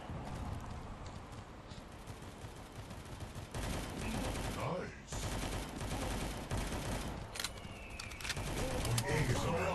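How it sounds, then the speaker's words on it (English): Rapid automatic gunfire from the Juggernaut weapon in the Guns of Boom mobile shooter, sustained bursts layered with other shots and game effects, while a player talks over the action. "So far, I really like the fire rate of the Juggernaut."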